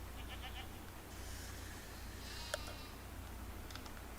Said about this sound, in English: It's a mountain goat